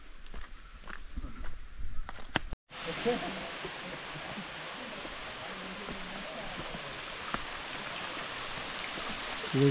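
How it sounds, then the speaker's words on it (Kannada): A small waterfall on the Netravati trek, steady broadband rushing water that holds continuously after a brief pause, close and fairly loud with no speech. "ಈಗ ಒಂದು ಚಿಕ್ಕ ಮಿನಿ ಫಾಲ್ಸ್ ಹತ್ರ ಬಂದಿದ್ದೀವಿ."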